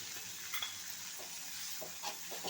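Two medium tomatoes are sautéed in a pan for a tomato and egg curry, with a soft, steady sizzle and a few light scraping stirs spaced across the short stretch.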